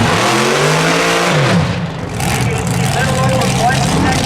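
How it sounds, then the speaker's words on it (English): A 1981 rear-engine dragster at a drag race in Kelowna, its loud engine roaring and revving steadily close by, dipping briefly midway before the roar resumes. "1981 rear engine dragster."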